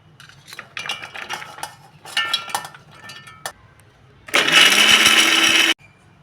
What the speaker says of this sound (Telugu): ఇది మొత్తాన్ని మనం మిక్సీ చేసుకొని మెత్త మెత్తగా తురుముకుందాం